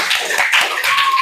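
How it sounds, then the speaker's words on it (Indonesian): Audience clapping in a classroom right after a group presentation, dense broadband hand claps of a small crowd, steady and fairly close for just over a second. "Tepuk tangan dulu."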